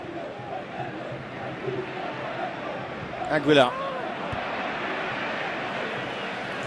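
A football stadium crowd at a Real Zaragoza versus Deportivo de la Coruña league match keeps up a steady, restless murmur with a brief whistle or shout rising midway, under a commentator's voice.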